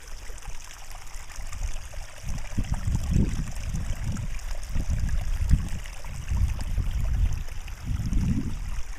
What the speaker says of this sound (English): here's more of that water song for Wayne